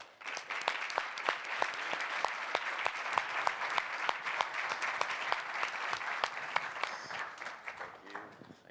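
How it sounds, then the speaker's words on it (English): Sustained applause from a conference audience at Brazil Conference 2024 fills the hall for several seconds, dense and steady with sharper individual claps standing out, fading toward the end. "a round of applause."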